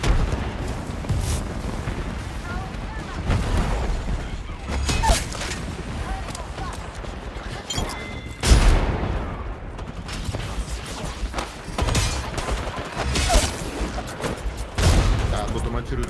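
Gunfire in the battle royale shooter Apex Legends, with bursts of shots and booming impacts scattered through the match, mixed with mechanical clatter and players talking over it.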